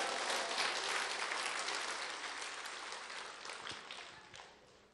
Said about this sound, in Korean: 100명 박수 치고